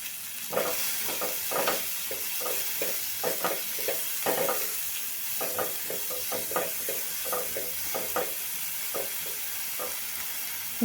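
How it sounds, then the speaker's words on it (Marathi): Capsicum and sweet corn sauté in a pan for white sauce pasta, a soft continuous sizzle broken by frequent rhythmic scrapes of a spatula stirring, close and fairly quiet. "शिमला मिरची स्वीट कॉर्न आपले जे आहेत ते सगळं परतवून घ्यायचं आहे"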